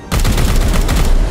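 Sustained loud burst of rapid gunfire from the turn-based tactics game Warhammer 40k: Chaos Gate Daemonhunters, a dense continuous volley filling the short moment close up.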